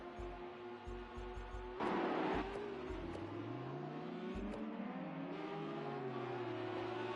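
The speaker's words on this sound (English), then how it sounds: "Could hear the engine just drop." A revving race car engine roars steadily, its pitch sliding up and down as it shifts, loud and close.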